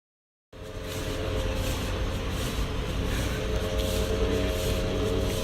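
Car interior drone while driving, a steady low engine and road rumble that starts abruptly after half a second of silence and holds constant without talk.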